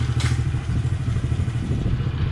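A new Honda CRF50 pit bike runs right after its first kick start, the small engine putting out a steady, fairly quiet low chug close by with a brief clatter at the start.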